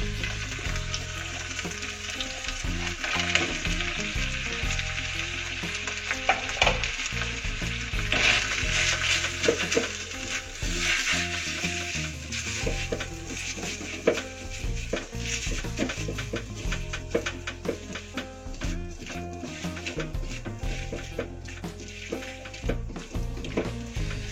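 Boiled, drained Indomie noodles stir-frying with squid in a hot pan give a loud, continuous sizzle, broken by clattering scrapes and tosses of a utensil against the pan throughout.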